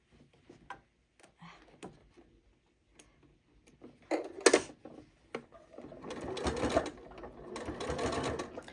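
A Janome 8200 QCP sewing machine starts stitching after scattered clicks and handling noises, its motor rising into a steady whir for the last few seconds, fairly quiet and close.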